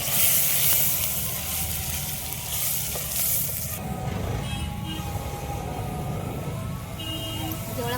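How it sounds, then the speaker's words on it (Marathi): Stone-ground green masala paste sautés in oil in a pan over a home cooking fire, giving a soft, steady sizzle with faint stirring scrapes throughout, fairly quiet and close. "मस्त परतून घ्यायचं आहे मस्त याने कलर येपर्यंत तेल सुटेपर्यंत"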